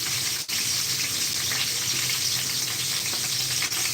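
Cooking oil sizzles steadily in a frying pan, a dense, bright crackling hiss that stays loud and unbroken, close up, with no voices over it.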